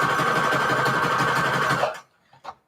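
A home sewing machine runs steadily at speed, stitching Christmas fabric and lace trim, with a loud continuous mechanical whir that stops abruptly near the end, followed by a couple of faint handling clicks.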